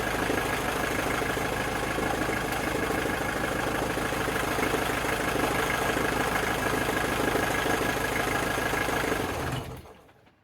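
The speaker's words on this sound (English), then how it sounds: "The engine is, well, shaking quite a bit, and the alternator is jumping." A running engine being troubleshot, with a shaking block and a jumping alternator, drones steadily and loudly with a dense rough rumble for about nine seconds, then cuts out and fades to silence.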